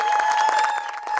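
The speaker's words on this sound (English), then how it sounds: "Let's give them a round of applause." Applause rises from a crowd at an outdoor political rally in Klerksdorp, a dense, steady patter of clapping over about a second, fairly loud and close, with a thin tonal hum running underneath.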